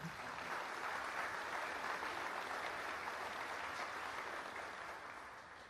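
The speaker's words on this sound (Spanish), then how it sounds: "Les pido un aplauso, por favor," Steady applause from a conference audience at a youth human development event in Mexico fills the whole stretch at low volume, a dense even patter that tapers slightly near the end.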